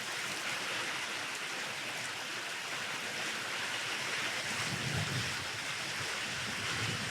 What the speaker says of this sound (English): Man, we needed this rain.